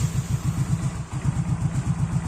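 A small motorcycle engine idles close by after a coolant temperature sensor from a Yamaha Aerox is fitted, giving a steady low, pulsing putter with slightly uneven beats and no voices.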